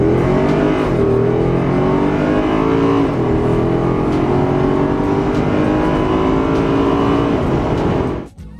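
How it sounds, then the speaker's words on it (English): Mercedes-AMG M156 V8 engine revving hard, a loud, continuous roar climbing in pitch through several rising sweeps before cutting off abruptly at the end, heard up close with no talk. "the M156 was developed with the same focus on the character and sound of the engine"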